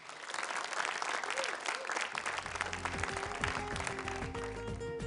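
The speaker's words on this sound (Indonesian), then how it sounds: "Tepuk tangan untuk Zula." A studio audience at a televised Quran recitation grand final applauds a contestant with steady, loud clapping, and music swells in underneath partway through.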